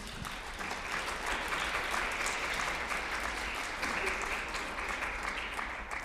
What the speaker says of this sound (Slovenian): ta aplavz velja vsem soustvarjalcem teh dogodkov Parade učenja